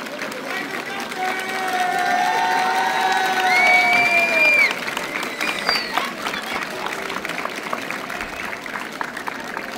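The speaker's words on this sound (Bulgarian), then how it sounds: "Аплодисменти!" Applause and cheering from a crowd at a school graduation send-off for a class of twelfth graders, a steady clapping wash with whoops that swells for about five seconds and then carries on under lighter crowd noise.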